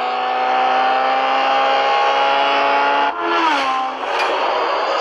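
A Porsche engine races in the CSR Racing 2 video game, a loud, steady high-revving drone that drops briefly at a gear change before climbing again, with no talking.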